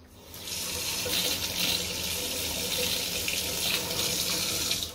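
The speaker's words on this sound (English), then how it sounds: "the cold water's coming out of the cold side" Cold water pours from a newly fitted kitchen tap into a sink in a steady, close, splashing hiss that lasts several seconds, with no talking.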